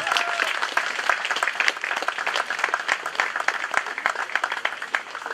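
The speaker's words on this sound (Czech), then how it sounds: "vy prosím tleskejte vítězkám kategorie mladší žáky" A hall full of people applauds the winning girls of the younger pupils category at a youth championship awards ceremony, steady dense clapping filling the whole stretch at an even level.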